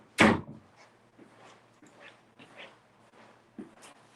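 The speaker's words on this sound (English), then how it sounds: "can you get the dog someplace? I can hear them on the broadcast." A dog inside a house gives one sharp, close bark, followed by quieter scattered whimpers, shuffling and thumps, and a second short bark near the end.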